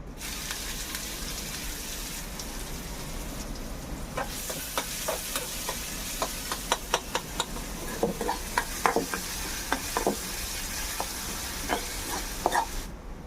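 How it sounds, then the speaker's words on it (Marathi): Chopped onion dropped into a ladle of hot oil in a village kitchen, sizzling and frying with clattering stirs and scraping bursts after a quiet start, close and steady with no talking. "आता तेल चांगलं तापलंय आता आपण कांदा टाकूया"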